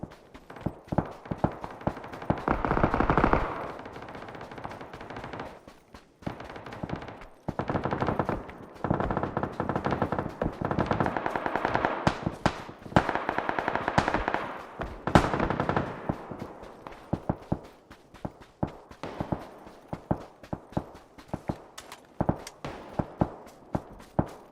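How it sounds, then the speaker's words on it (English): Bursts of automatic gunfire from the PUBG battle royale game crackle in rapid runs and single cracks, varying between near and distant, with intermittent footsteps and dense action in between and no talk. "Up the hill, we're getting shot."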